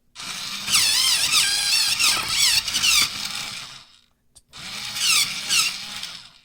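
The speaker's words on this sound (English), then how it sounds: "now I'm going to move over to Jazzberry Jam, but I'm going to sharpen, so it's going to be loud" An electric pencil sharpener grinding a Jazzberry Jam colored pencil: a loud, close, high whirring squeal with wavering pitch runs about three seconds, stops briefly, then starts again for a second burst, with no talking.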